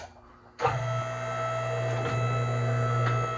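An elevator starts up with a sudden mechanical onset, then runs with a steady low motor hum and faint whine, close and continuous, with a few soft knocks as it travels.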